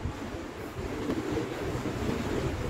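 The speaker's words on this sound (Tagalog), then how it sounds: "Lakas ng hangin" A strong wind blows across a harbour front, a steady, muffled rushing roar that buffets the microphone throughout with no one speaking.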